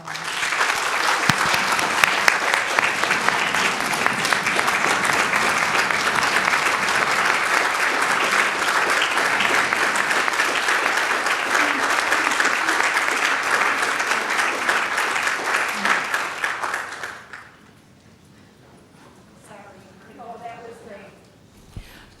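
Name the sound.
audience applause at a college briefing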